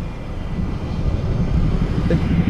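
A train rolls past the level crossing at Beesd in the Netherlands, a loud, steady low rumble heard close by with no voices.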